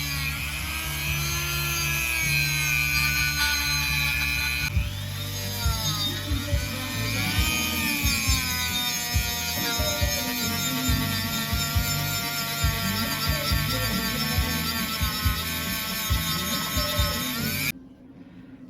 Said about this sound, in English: using those little buffing wheels, those little 3M pads on the Dremel